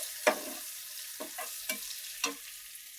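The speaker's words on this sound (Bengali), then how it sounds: "এখানে আমার পেঁয়াজ প্রায় ভাজা হয়ে আসছে" Onions frying in a pan as they are nearly browned, with a few sharp, close stirring scrapes and brief sizzles spaced apart over a quiet background.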